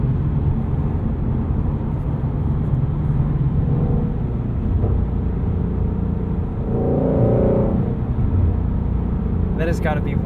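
A 2016 Ford Mustang Shelby GT350 engine drones steadily from inside the cabin, swelling into a louder rise midway as it accelerates, with a brief voice near the end.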